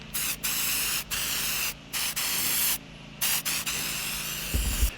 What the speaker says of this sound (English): So it's an ultra shine detail spray.